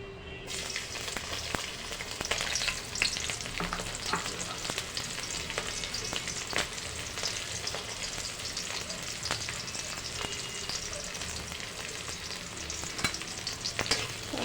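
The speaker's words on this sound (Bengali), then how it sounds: "সব ভালো করে নেড়ে ভেজে নেব হালকা লাল লাল করে পেঁয়াজটাকে" Chopped garlic, onion and green chili fry and sizzle steadily in oil for a greens-and-egg stir-fry, with periodic scraping stirs of a spatula against the pan throughout, close and continuous.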